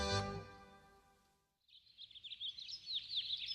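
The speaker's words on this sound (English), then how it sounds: "I awake to the serenity of birds chirping and the sound of a gentle breeze caressing the nearby vineyards" Birds chirp in the morning near vineyards, a quick series of light, high tweets at moderate distance following a fading musical note, with no talking.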